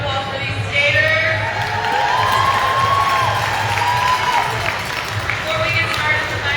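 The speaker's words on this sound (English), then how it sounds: "Can we get a round of applause for these skaters?" A roller derby crowd cheers, whoops and applauds for the skaters during intros, a loud sustained roar of mixed voices with high shouts throughout.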